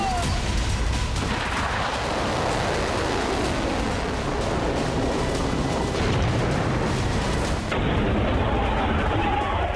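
Loud, continuous roaring rumble of blasts from Iranian missiles with cluster bomb explosions over Tel Aviv, a dense barrage of booms and crackling without clear pauses.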